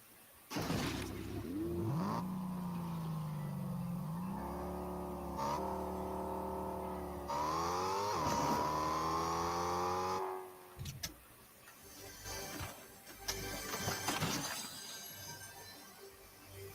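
A car engine in Fortnite revs and shifts through rising and falling tones across several bursts, loud and close, then drops away into scattered clinks and bangs, with no voices.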